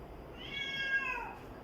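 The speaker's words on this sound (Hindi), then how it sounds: "ये जी बिल्लियाँ" Cats meowing indoors, a drawn-out mew rising and falling over about a second, fairly close and moderately loud with low room noise underneath.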